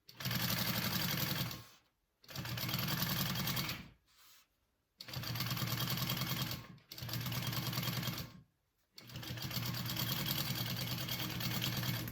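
A sewing machine stitches a Vekza bowler bag in five steady bursts of close, whirring motor hum, with short silent pauses between runs.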